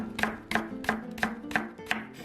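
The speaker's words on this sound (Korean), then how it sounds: "무, 채 썰어줍니다" A kitchen knife julienning radish into slightly thick strips on a cutting board makes six crisp, evenly spaced chops in a steady rhythm, close and clear, with no talking.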